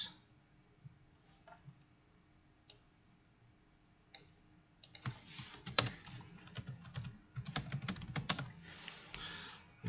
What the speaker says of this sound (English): So simply I used the search and I type penetrant.